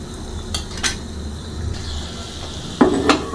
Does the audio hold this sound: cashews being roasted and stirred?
yes